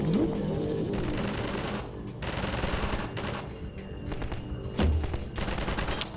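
Rapid bursts of automatic gunfire from the video game Half-Life 2, loud and repeated in clusters with short gaps between volleys, mixed with game effects.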